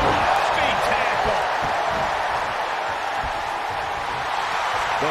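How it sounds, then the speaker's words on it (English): A loud, dense crowd roars and cheers steadily throughout a live wrestling show, the noise a continuous wall of sound with faint whoops and thuds within it. "The sound of this crowd is deafening"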